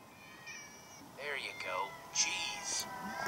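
Several cats meowing in the video game Minecraft Story Mode, a few rising, drawn-out meows overlapping one another, mid-level and close, with game tones and a voice talking over them.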